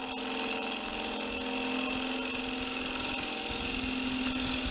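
Wood lathe spinning a bowl blank while a bowl gouge hogs off a heavy shoulder, giving a steady, close, continuous whir with a hum and rough cutting hiss throughout, no talk.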